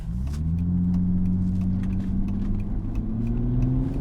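An Audi B5 S4 with a Tiptronic automatic gearbox accelerates in automatic mode, its mid-pitched engine note rising steadily and smoothly, loud and close with no talk.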